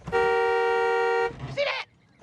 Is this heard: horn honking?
yes